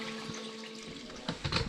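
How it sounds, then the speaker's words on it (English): A tap runs steadily during a small gold concentrate sluice cleanup, the water's hiss staying even and close, with a few splashy knocks near the end and no voices. "turn the water off there"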